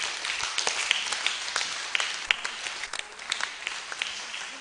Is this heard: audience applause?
yes